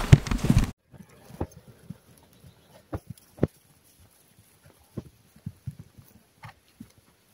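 Horse hooves on a cross-country course, an opening burst of heavy noise giving way to scattered, irregular thuds and clip-clops at moderate distance, with pauses between steps and no talk.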